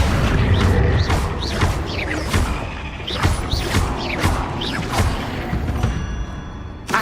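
Repeated spell blasts and impacts from casting Confringo in Hogwarts Legacy, a dense run of thuds and bursts over a constant loud rumbling game backdrop.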